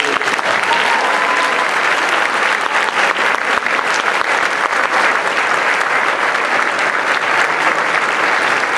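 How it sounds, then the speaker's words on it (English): A large crowd at Morris Hills school applauds steadily and loudly throughout, a dense wash of clapping with no pauses. "Everyone owes a round of applause to Assistant Principal Mr. Melvin"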